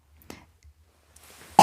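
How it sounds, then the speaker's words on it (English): A single sharp cough bursts out at the end after a few quiet clicks and breaths, close and fairly loud. "Got the old COVID cough here."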